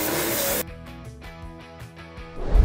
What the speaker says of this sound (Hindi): देखो ये है फोम स्प्रे गन, इसे लगाएंगे कुछ ऐसे और अब इसके अंदर से निकलेगा काफी अच्छी तरीके से फोम।